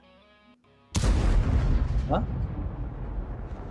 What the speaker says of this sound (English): Oh, I like the explosion.